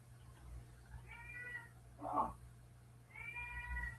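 A cat meows for food in three drawn-out cries: a soft tonal meow, a short louder squeak, then another long meow. A low hum runs underneath.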